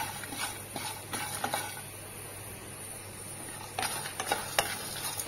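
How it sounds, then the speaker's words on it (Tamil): Red chillies and coconut pieces dry-roasting in a pan without oil, a soft crackle under irregular scraping stirs that come in short bursts, close by. "இப்ப நல்லா வறுத்துக்கோங்க"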